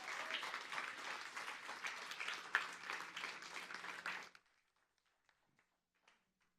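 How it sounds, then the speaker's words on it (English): An audience at a school district scholars reception claps for a new superintendent, a dense, lively round of applause for about four seconds that stops abruptly, leaving a quiet room with faint stray sounds. "Would you please give him a nice round of applause?"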